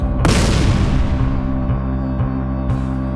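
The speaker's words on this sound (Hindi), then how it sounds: "हर टक्कर एक भयानक विस्फोट लेकर आती थी।" A deep, heavy boom of a meteorite striking the early Earth bursts out and rolls on with a long rumbling roar that slowly fades.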